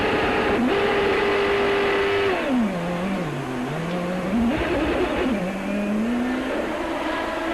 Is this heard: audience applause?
no